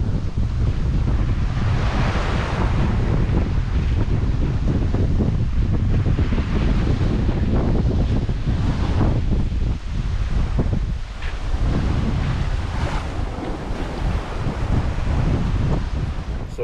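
Steady wind and waves rushing past a sailboat at sea on a solo passage south from Ireland toward Madeira, reefed and moving fast in about 13 knots of wind, a continuous loud roar with surging swells and wind buffeting the microphone.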